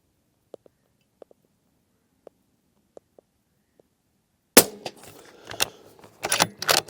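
Rifle fire from an ATA Turqua thumbhole laminate rifle at 100 yards: after a quiet stretch of faint clicks, a sharp loud shot bursts out, followed by rumbling and further bangs and handling noise.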